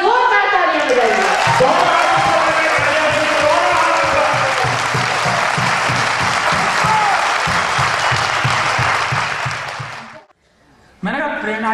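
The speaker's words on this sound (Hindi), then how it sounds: "एक बार जोरदार तालियां बजाइए।" An audience at a gathering bursts into loud, dense applause that holds steady for about ten seconds, then cuts off sharply before a voice resumes.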